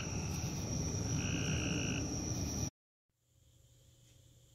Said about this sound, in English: Looks like it's starting to rain again, so the frogs are happy